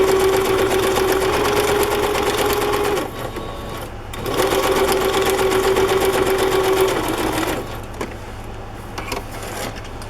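Sewing machine stitching fabric strips, running loud and close with a steady rapid mechanical whir, stopping briefly twice before starting up again.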